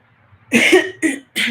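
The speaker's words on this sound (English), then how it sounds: "Sorry, you guys, about my coughing." Three harsh coughs close to the microphone, a longer first burst followed by two shorter ones in quick succession.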